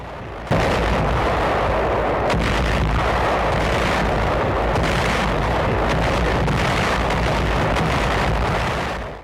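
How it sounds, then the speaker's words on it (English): Continuous loud World War II artillery barrage, heavy booms and rumbling blasts overlapping densely for about nine seconds with no pauses, filling the whole clip without voices. "artillery fire was the deadliest weapon that the World War II soldier had to contend with on all fronts"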